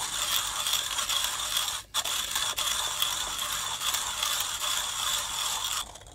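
Expensive manual hand coffee grinder, built for espresso, grinding light-roast beans: a steady, close, continuous gritty scraping and crunching with a ratcheting mechanical texture, broken by a brief pause near the middle, with no talking.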